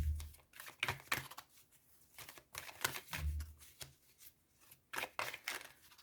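Oracle cards are shuffled by hand for a tarot-style reading, giving bursts of quick papery riffles and slaps that come in several clusters, close and fairly quiet, with no talking.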